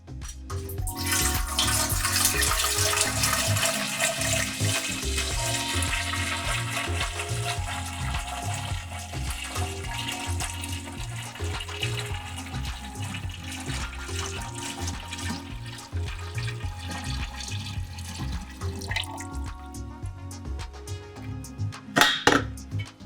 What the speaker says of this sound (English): we're gonna go ahead and pour our flavored kombucha into our Corny Keg